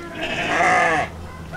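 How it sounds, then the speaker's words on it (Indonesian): A single loud, close sheep bleat rises and wavers for about a second inside a village livestock pen in rural Sundanese countryside, then fades into quiet background. "domba-domba yang selamat dari kurban."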